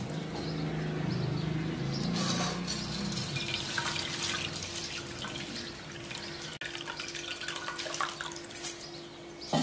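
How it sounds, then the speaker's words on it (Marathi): Pearl millet being washed in water splashes and trickles steadily in a pot at close range, with continuous sloshing and dripping and a faint steady hum underneath, and no talking. "आता ही बाजरी धुवायला पाणी टाकू त्याच्यात"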